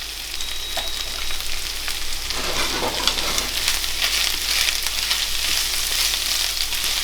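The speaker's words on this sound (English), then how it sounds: "we've got the coconut oil in the pan and we're just mixing the beans and the spices up with that oil" Beans and spices sizzle and fry steadily in coconut oil in a pan for a Sri Lankan bonchi dish, with a continuous bright crackle and occasional stirring scrapes, close and even throughout, no talking.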